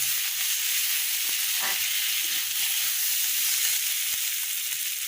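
Green chilli and ginger paste sizzling loudly in hot oil for a fish jhal while being stirred in, a continuous bright hiss with occasional scraping knocks of the spoon.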